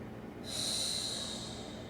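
A deep, hissing exhale through the nose during a Pilates forward stretch, close and breathy, swelling then easing over about a second and a half.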